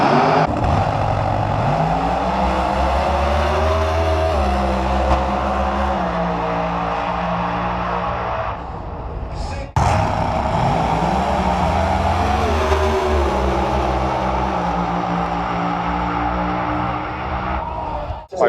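Doorslammer drag racing cars at Santa Pod roar hard off the line, engines climbing through the gears, then a second loud run follows close behind; both cars run in the 5s.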